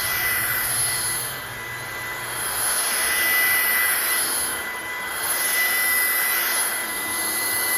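A RYOBI 18V ONE+ cordless stick vacuum runs continuously over carpet with a loud, steady whine and airy suction that swells and fades gently as it is pushed back and forth.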